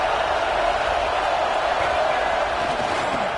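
Steady stadium crowd roar in a college football video game, Arizona State at Washington, a dense, even wall of noise held loud throughout a red zone defensive stand, with faint commentary beneath it.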